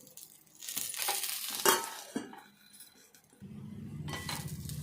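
A spoon clinks and scrapes against a pan while fenugreek seeds and cumin are stirred for a green chilli and tamarind chutney, with intermittent metallic taps and a low rumble near the end.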